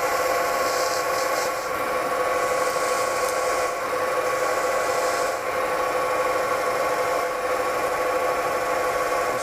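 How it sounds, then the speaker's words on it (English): An acrylic pen blank is wet sanded with fine-grit abrasive up to about 12,000 grit, giving a continuous soft rubbing hiss that swells and eases in repeated passes, close and alone with no talk. "I like to take, well, maybe 2 or 3 passes depending on the grit, and then just work up to the next one"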